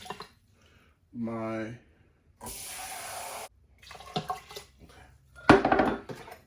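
Water pours onto rinsed brown rice in an Instant Pot in a short broadband splash, one of several bursts of kitchen sounds between stretches of nearby talk.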